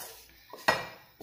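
A spoon scrapes and taps against a bowl as fried vegetables for a spicy zucchini salad are tipped in, with a soft shuffle followed by one bright clink and a lighter knock, close and clear.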